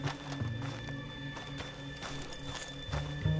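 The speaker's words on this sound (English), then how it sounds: "that sure is Shane Finley coming off the back of his horse" In Red Dead Redemption 2, a horse's hooves clip-clop at a walk with snorting and a whinny, close and fairly loud over a low ambient game background, with no talk.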